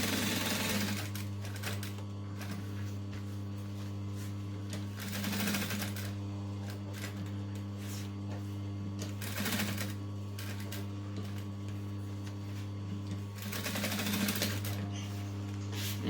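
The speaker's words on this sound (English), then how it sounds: "So I'm just stitching as close as I can." A sewing machine stitches close along the edge of fabric pieces for a persimmon dumpling pouch with reverse applique, its steady motor hum broken by three brief louder bursts of stitching.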